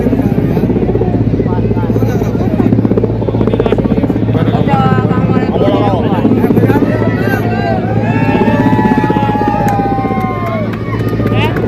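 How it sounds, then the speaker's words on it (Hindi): A helicopter circling over a crowd at a Prime Minister's public rally in Damoh, a loud continuous rotor drone throughout, mixed with crowd babble and people talking nearby. "हेलीकॉप्टर यहाँ से घूमो जी, घूमो पूरा।"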